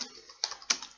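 Quick keystrokes on a computer keyboard while a git command is entered, a few crisp clicks with two louder key presses, close and clear with no talking.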